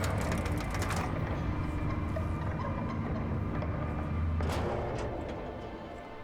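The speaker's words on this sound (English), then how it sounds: "Oh, it's an elevator." An elevator moving in The Outer Worlds video game: a steady, droning mechanical hum with faint rattling and a brief clank near the end, fading slightly as the ride settles.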